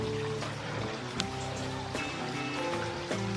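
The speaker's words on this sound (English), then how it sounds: "You can hear the water trickling down." Water trickling down a weir, a constant washing flow with light splashy ticks, heard together with steady tonal humming that stays level throughout, no talk.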